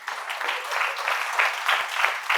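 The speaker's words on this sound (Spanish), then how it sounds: "Ese aplauso como que no es de mucha convicción" Scattered, fairly light applause from a church congregation at Sunday Mass, steady clapping without cheering, lasting a couple of seconds.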